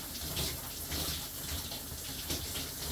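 Shower water runs in a steady, even hiss and splash close by, while a person bathes a cockatoo under the spray. No voices break through the continuous flow.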